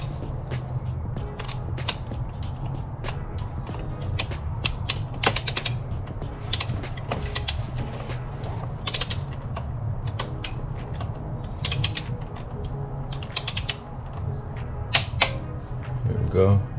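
A torque wrench tightens a spark plug on a Genesis G70, giving a long run of close, irregular ratcheting clicks over a low steady hum.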